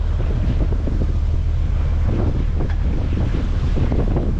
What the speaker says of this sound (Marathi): वारा पण भरपूर आहे